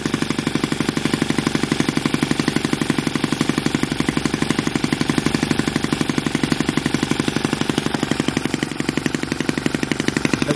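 A small engine with a working ignition and a full fuel tank runs smoothly and steadily, its fast, even firing pulses continuing close and loud throughout without any talk.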